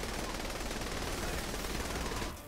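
Saints Row: The Third gunfire, a dense, continuous burst of rapid automatic shots that fills the clip at close range and cuts off abruptly near the end.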